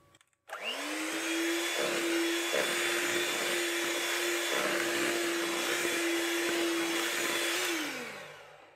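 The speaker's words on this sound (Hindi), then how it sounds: "अब बचा हुआ मैदा वो भी डाल देंगे और साथ में ये डाल देंगे दूध और इसे हल्का सा बीट करेंगे" An electric hand mixer beats cake batter with flour and milk for a lemon cake, a steady close whirring motor hum that runs unbroken for several seconds and then winds down.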